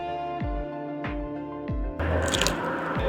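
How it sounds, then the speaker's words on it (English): Bites into a crispy steak croissant with honey mustard, served at Epcot's Festival of the Arts, produce a few sharp, close crunches spaced through the first two seconds, followed by a louder burst of chewing texture. "Did you guys hear that crunch? That was from the croissant."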